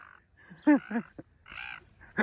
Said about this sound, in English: now they're arguing. Okay, we're not going to do seagull arguments